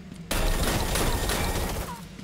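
Gunfire in the video game Batman Arkham City: a loud, dense burst of rapid shots starting abruptly and rattling on for a couple of seconds before easing off, with no speech.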